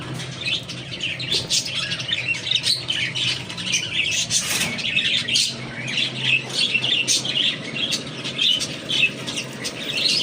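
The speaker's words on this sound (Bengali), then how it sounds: "দেখেন টিয়া পাখি বসে আছে বাইরে। আজকে ওদেরকে গোসল করতে পানি দেওয়া হয়েছিল, তো ওরা সবাই গোসল করছে।" Parrots bathing in water put out for them squawk and chirp continuously, with dense, loud, overlapping calls close by and occasional bursts of wing flapping.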